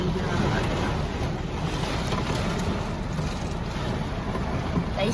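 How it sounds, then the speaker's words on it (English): Heavy rain pours down outdoors in Florida, giving a dense, constant hiss and wash of broadband noise that holds steady and loud throughout, with no voices. "It's pouring down."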